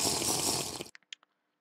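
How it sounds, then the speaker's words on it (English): Minecraft player entering water, a faint rushing splash lasting under a second that stops abruptly, followed by a few soft short bubbly blips and then silence. "And I'm going into the water,"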